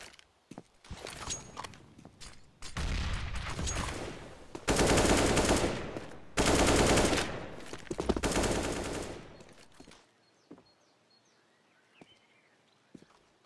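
Gunfire in the shooter game Counter-Strike: Global Offensive during an ESEA/MDL esports match. Loud, dense automatic bursts come in several sustained volleys, broken by scattered single shots and quieter gaps, with a calmer stretch at the end.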